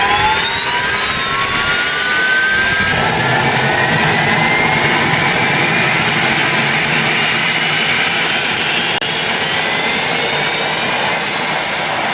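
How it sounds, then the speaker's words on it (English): A Learjet's loud jet engine whines and roars steadily, its pitch rising as it spools up, with a constant rushing drone underneath. "now it's time to start the procedure for engine start."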